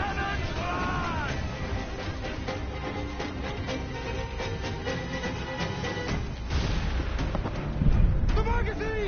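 Cannon fire aboard a pirate ship in Assassin's Creed Black Flag, a dense barrage of deep booms and blasts rolling over one another, with shouting crew voices and a heavier explosion near the end.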